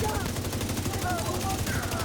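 Rapid continuous gunfire in a shooter video game, dense repeated bursts like a machine gun, loud and unbroken across the whole stretch, with game voices mixed faintly underneath.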